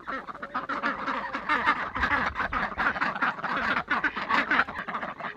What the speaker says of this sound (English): our silver appleyard ducks are doing well